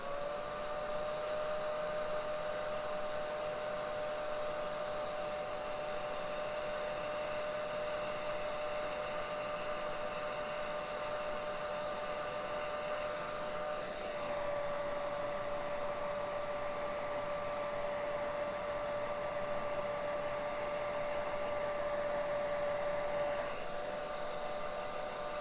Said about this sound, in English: And last time with the hairdryer for this side.